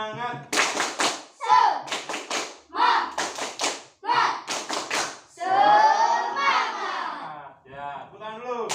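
Classroom of children standing and performing a rhythmic spirit clap, sharp clap bursts in patterned groups alternating with loud chanted voices, close and energetic.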